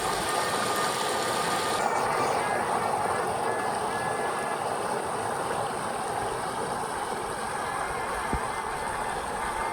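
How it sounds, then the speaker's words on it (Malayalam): Water pouring over a bund beside Aruvikkara bridge on a river, a steady broadband rushing roar that holds constant throughout without pause. "ബണ്ടിന് മുകളിലൂടെ വെള്ളം ഒഴുകുന്നത് കാണാൻ നല്ല രസം"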